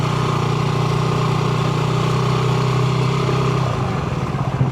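A motorcycle engine hums loudly and continuously while riding, then its pitch drops and turns uneven near the end as the rider brakes to a stop and clicks down through the gears to neutral.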